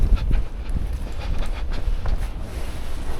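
A freight train rolls past in Kazakhstan, a steady low rumble with rhythmic wheel clatter, heard close by under heavy wind buffeting on the microphone.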